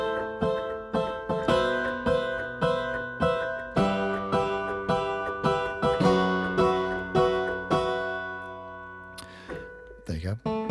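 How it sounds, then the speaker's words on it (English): A tiny portable harpsichord, recorded binaurally, plucking a steady, evenly paced run of bright notes with sharp attacks, close up, ending with a brief rustle. "tiny binaural harpsichord sounds a bit like this."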